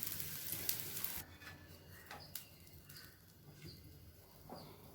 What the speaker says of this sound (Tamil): இப்போ கொஞ்சமாக எண்ணெய் விட்டு நல்லா முறுமுறுன்னு வேகிற வரைக்கும் விட்டுடுங்க